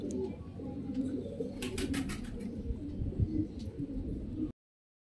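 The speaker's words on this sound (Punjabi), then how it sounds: "ਕਬੂਤਰ ਆ।" Breeder pigeons coo softly and repeatedly at close range, with a brief burst of fluttering partway through before the sound ends.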